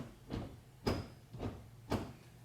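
A Honda Odyssey sliding door rocked back and forth with excessive play in its center roller, giving four soft knocks and rattles at an even pace, close and fairly quiet, with no talk.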